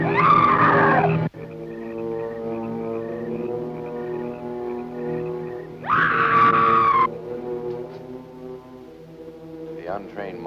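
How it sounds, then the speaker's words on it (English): A shrill, wavering ghostly scream from a 1958 black-and-white horror film, rising in two loud bursts over a sustained droning, foghorn-like musical tone near an old cemetery bell tower. "To the untrained mind, it is the scream of the white ghost."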